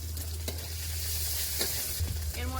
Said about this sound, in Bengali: পেঁয়াজ কুচি, রসুন থেতো করা আর আদা বাটা, সঙ্গে কাঁচা লঙ্কাটাও একবারে দিয়ে দেবো।